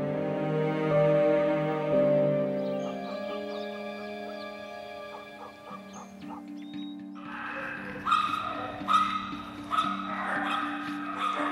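Abandoned stray dogs barking and yipping amid a busy mix of sound, with music-like tones and some voices layered over the yelps.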